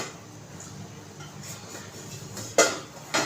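A metal lid comes off a pot of simmering village-style egg curry with two sharp, close clanks near the end, over a low, steady background hiss.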